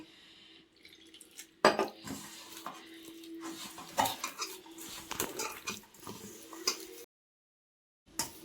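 Jowar flour batter mixed in a bowl, with wet slapping and scraping strokes against the bowl in irregular bursts, close and fairly loud, stopping briefly near the end.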